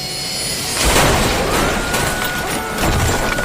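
F-16 fighter jet crashing into a residential building: loud, dense roaring crash with a broad rumbling impact swell, debris noise and a sustained rushing wash lasting several seconds.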